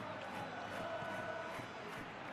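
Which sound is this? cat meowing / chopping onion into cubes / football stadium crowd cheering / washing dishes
football stadium crowd cheering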